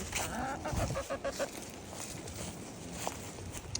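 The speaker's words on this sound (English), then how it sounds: "I went to the back to look at some of the chickens." Chickens cluck in a short burst of rapid calls nearby, followed by scattered scratching and shuffling sounds.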